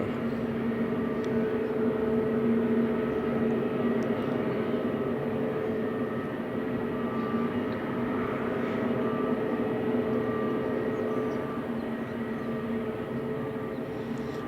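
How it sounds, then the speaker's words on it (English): At Funchal Airport on Madeira, a Jet2 jet taxis slowly while a TAP Air Portugal jet runs its engines, producing a steady tonal engine whine and hum, moderately near and continuous. "the Jet 2 is just having a slow taxi in to waiting for the TAP Air Portugal to move. TAP has its engine started"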